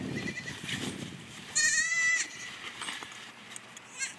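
A goat carried in a bag lets out one loud, wavering bleat in the middle, with rustling and a faint voice-like murmur around it.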